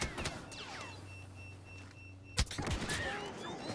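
Blaster fire in Star Wars Battlefront on Xbox: a few faint zapping shots with falling pitch, one sharp loud crack near the middle, then more distant blasts.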